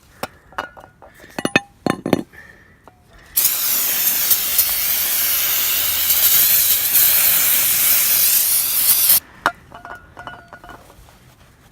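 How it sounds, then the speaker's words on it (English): A loud, steady hiss of aerosol brake cleaner sprays for about six seconds onto a truck brake rotor, framed by sharp metallic clinks and taps before and after. "I'm gonna hit it with brake cleaner."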